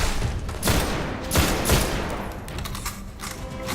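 Heavy bursts of weapon fire boom and crackle in the shooter game Destiny, loud and close, with several sharp volleys and a rumbling tail, without talking.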